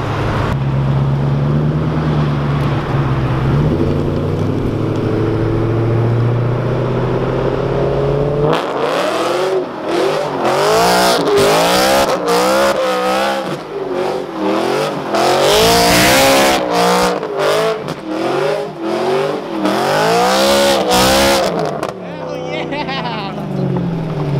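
A loud sports car engine roars and revs hard while doing donuts, pitch rising and falling repeatedly with tire squeal, continuous and close throughout.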